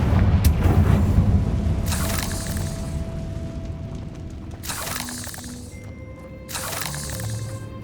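A Confringo fire-blast spell detonates in Hogwarts Legacy, a heavy boom with crackling shatter up front, followed by two more sharp bright bursts amid rumbling debris and game ambience.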